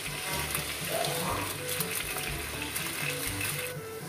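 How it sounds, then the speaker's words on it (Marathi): Masala from the noodle packet fries in a pan for Schezwan noodles, making a dense, continuous sizzle with a faint low hum underneath and no talking. "सो आता आपण हे छान फ्राय करून घेतोय."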